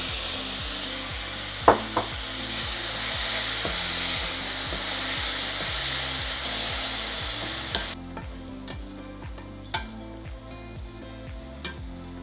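Garlic and diced tomatoes frying in a pan for a sofrito, a steady loud sizzle with periodic scraping stir strokes and a few sharp clinks, the hiss dropping in level partway through.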